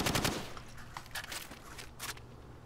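Rifle gunfire in Call of Duty: Modern Warfare, a few sharp shots in quick bursts, fairly faint under a game mix, no talk.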